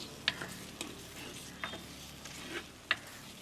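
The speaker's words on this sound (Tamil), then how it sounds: "அதை நல்லா கிளறுங்க." A spatula stirs egg fritter curry in a pan, giving a few sharp, scattered taps and scrapes over a faint, low sizzle in a quiet kitchen.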